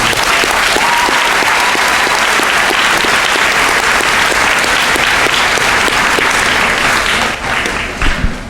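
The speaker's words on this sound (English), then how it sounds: "So one nice round of applause for them." Sustained, loud applause from a crowd filling a school gym at a 2022 middle school graduation ceremony, an unbroken wash of clapping that thins slightly near the end.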